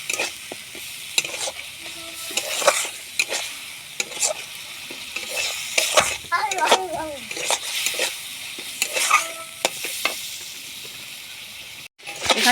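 Spice paste with a little salt is sautéed in a pan for a pointed gourd and prawn curry, with repeated close spatula scrapes over a lively hiss, pausing briefly near the end.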